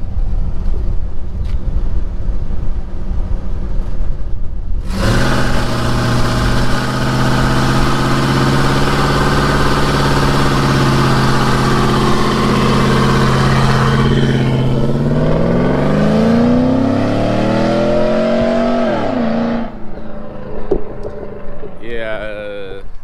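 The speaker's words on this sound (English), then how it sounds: "Steve's going to try to do a burnout real quick just to check his adjustment on his panhard bar" An F-Body car on Nitto drag radials does a burnout. A rough idle gives way to a sudden loud revving engine roar that holds for about ten seconds, then sweeps up and down in pitch before dropping back.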